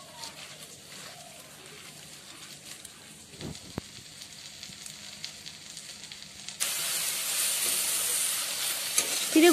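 Turmeric frying in oil in a pan before flattened rice goes in for Bengali chirer polao, a low steady sizzle that swells louder and brighter partway through, with a few soft clinks of stirring.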